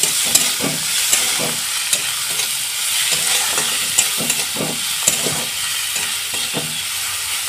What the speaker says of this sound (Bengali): টমেটো কুচি, আদা কুচি, অল্প সামান্য লবণ দিয়ে আমি মশলাটাকে কষিয়ে নেব।